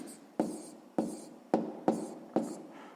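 A pen writes a handwritten equation in five distinct bursts of scratching strokes, each starting sharply and fading, spaced about half a second apart, close and fairly quiet, with no talking.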